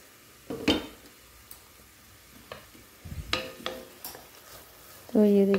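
Tomato masala cooks in a pan, with soft sizzling under a few sharp stirring scrapes and utensil clinks, quiet and intermittent.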